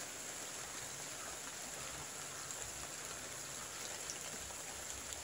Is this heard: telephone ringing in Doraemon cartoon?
no